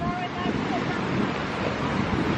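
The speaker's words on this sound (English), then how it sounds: "And here we are. This is Ocean Isle Beach." Surf and wind at Ocean Isle Beach, a steady broadband wash of breaking waves mixed with gusty microphone wind noise, continuous and fairly loud throughout.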